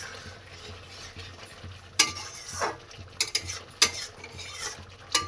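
Egg korma is stirred with fried onions and garam masala: a soft sizzle under several sharp scrapes and clinks of a spoon on the pan, spaced irregularly and heard up close.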